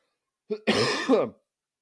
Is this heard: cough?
yes